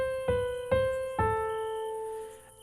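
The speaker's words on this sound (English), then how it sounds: "for Edgar Allan Poe's stories, I usually include the Dies Irae to represent death" The Dies Irae melody, used to represent death, plays as three slow, evenly spaced struck notes, each bright and bell-like with a long ringing decay that fades out. No voices.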